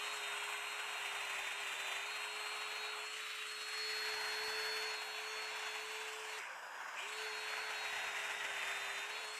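A domino joiner cutting mortises into wood boards, a steady high motor whine with a faint hum beneath, running continuously and dipping briefly once before spinning back up.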